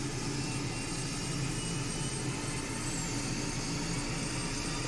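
F-16 jet engine spooling up in Microsoft Flight Simulator 2020, a steady broadband roar with a high whine, continuous and loud throughout with no talk.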